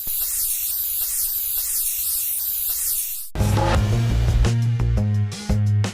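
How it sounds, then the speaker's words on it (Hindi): A factory spray machine coats bicycle frames with primer and final paint, a steady wash of loud hiss for about three seconds before music abruptly takes over. "जहां स्प्रे मशीन से इन पर पेंट की प्राइमरी और फाइनल कोटिंग की जाती है।"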